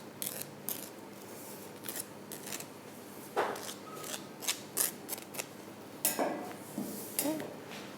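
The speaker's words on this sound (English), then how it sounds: "with the back of your knife, not the edgy side, you're just going to trim off the pastry at the sides here" The back of a knife trims the pastry edges of a lemon meringue pie in its tin, a series of soft, irregular scraping and clicking strokes, close by and fairly quiet, with no talk.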